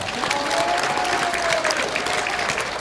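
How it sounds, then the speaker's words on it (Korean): Crowd applause at a Korean community YouTube channel launch event, dense continuous clapping from many people filling the whole stretch, with a faint voice tone briefly audible underneath. "신혜식 대표에게도 여러분 감사의 박수를 보내주시기 바랍니다"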